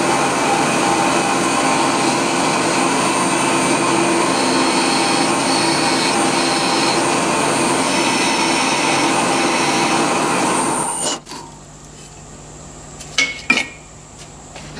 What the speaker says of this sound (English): I'll get those drilled out now and get them tapped.